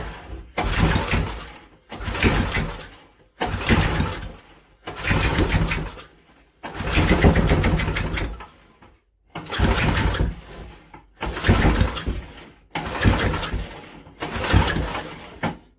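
A Briggs and Stratton 5hp engine is cranked repeatedly, about eight loud pull-start bursts in a steady rhythm separated by short pauses, each one sputtering and trying to fire without catching.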